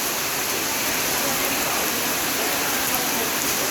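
Heavy rain pours during flooding at Karak Shilinmen, a dense, constant roaring hiss of water at steady loudness throughout, with no talk.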